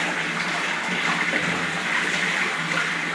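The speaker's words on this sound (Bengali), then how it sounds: "গায়ে জল দিয়ে গা পরিষ্কার করো" Water poured over a child during a bath, a steady, continuous splashing gush close by, with no talk.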